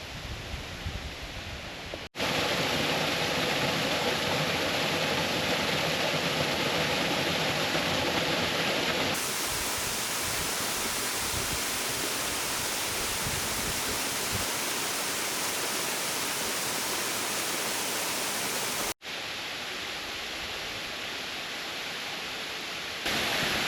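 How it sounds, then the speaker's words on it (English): A waterfall near Pisac, Peru sends up a loud, steady broadband roar of rushing water that runs unbroken nearly the whole time, briefly cutting out near the start and again toward the end. "Also the next waterfall is here, so take a look."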